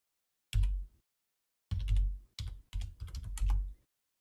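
Computer keyboard keys are tapped in short bursts, a single press followed by a quick cluster of clicks, close and clear with no talking.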